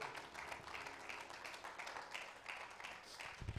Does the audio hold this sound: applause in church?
yes